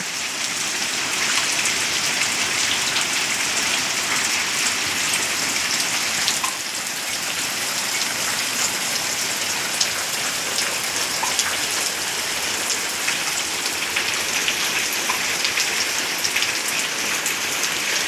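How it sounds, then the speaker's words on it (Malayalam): Heavy rain pours steadily onto surfaces outdoors, a dense, even hiss with no voices that holds its strength throughout. "വീണ്ടും ശക്തി പ്രാപിക്കുകയാണ് മഴ"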